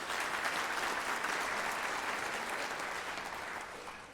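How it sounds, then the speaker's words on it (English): Audience applause at a university honors convocation, a dense even clapping from a large crowd that sustains throughout and tapers slightly at the end. "Please join me in applauding the remarkable achievements of these outstanding students"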